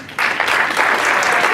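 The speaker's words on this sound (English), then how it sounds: "Give him a round of applause." Audience applause for Kelvin at a student leadership workshop, a crowd of clapping hands starting abruptly and continuing steadily, close and full.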